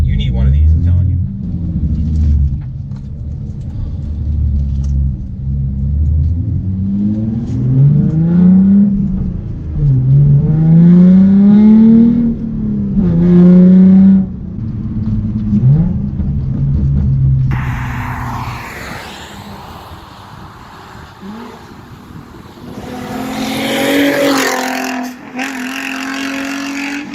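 Hyundai Genesis Coupe 3.8 R-Spec with modifications revving while driving, a loud engine drone rising and falling through gears for much of the stretch, giving way to rushing wind and road noise near the end.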